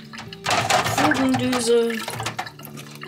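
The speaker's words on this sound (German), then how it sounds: "Ich lasse da auch wirklich schön das Wasser durchlaufen." Tap water runs and splashes through vacuum cleaner attachments, such as a crevice nozzle, as they are rinsed and soaked in a sink, a close, bubbling trickle with a person briefly speaking over it.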